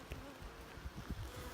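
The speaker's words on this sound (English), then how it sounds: "Obviously there's a bunch of bees." Honey bees buzz inside a hive during an inspection, a faint, steady, diffuse drone with no talk over it.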